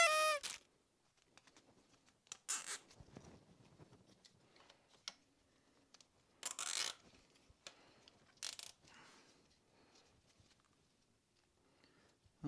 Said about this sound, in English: zip tie party time.